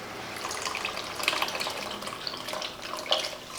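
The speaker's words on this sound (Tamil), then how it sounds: "இப்போ கரைச்சி வச்சுருக்கிற வெல்லம் தண்ணியை சேர்த்துடலாம்." Dissolved jaggery water is poured into a pan of cooked bottle gourd, giving a soft, steady splashing and trickling of liquid heard fairly close and alone, with no talk.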